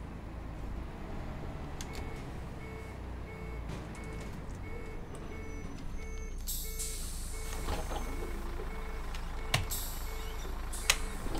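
Simulated Studio Polygon Renown bus in Arkala spec from OMSI 2, a steady low diesel engine drone on a country run with intermittent beeps and a couple of sharp air-brake hisses near the end.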